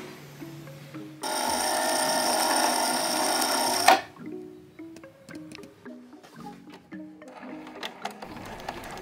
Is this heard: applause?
no